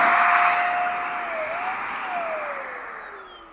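A Meudeen electric air duster blows air with a loud, steady whine and rushing hiss, its pitch sliding slowly downward as the motor spins down, heard alone at close range.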